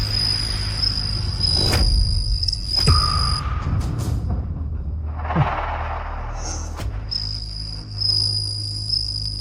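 Fighting crickets chirp with a steady, high, shrill trill that drops out briefly in the middle and resumes, close and fairly loud, over a low background rumble and a few clicks and rustles.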